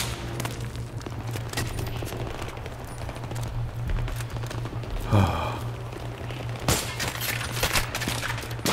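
Battlefield 3 campaign firefight with continuous distant rattling gunfire and scattered sharp shots over a low engine-like hum, one louder burst near the middle, fairly quiet overall.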